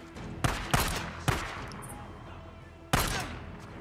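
Gunshots in the video game Days Gone: three sharp, loud shots spaced apart, each cracking out and trailing into a short echoing decay.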